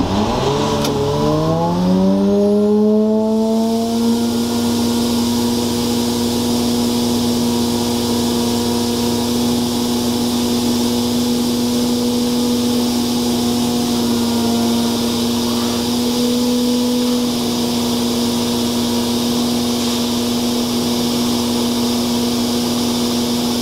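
Sapphire Scientific Pro-1200SE direct-drive truck-mount carpet cleaner starting up, its engine pitch climbing over the first few seconds, then settling into a steady, loud, continuous hum and drone for the rest of the clip.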